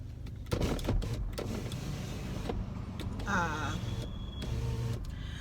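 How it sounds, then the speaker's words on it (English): A car's electric window hums as it rolls down, a steady motor whine lasting a couple of seconds over a quiet idling-car background with occasional clicks. "And maybe I should roll my window down."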